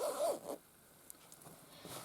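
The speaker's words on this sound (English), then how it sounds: "The zippers open all the way down." Zipper on a fabric craft storage pouch is pulled open in a quick rasping run at the start, followed by quiet handling rustles and a few faint clicks.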